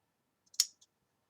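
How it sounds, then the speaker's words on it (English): Scissors make one small, crisp snip through crochet yarn, close and quiet, with a faint tick just before and after and silence all around. "just snip this off where I cut it"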